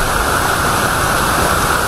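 Dense, continuous roaring rush of many waterfalls tumbling through forest on a Lonavala trek, loud and steady with no voices.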